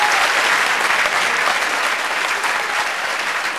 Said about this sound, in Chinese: 谢谢我们天磊的演出，给他掌声